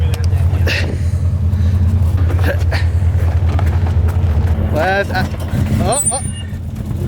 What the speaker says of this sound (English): We're push starting this bitch.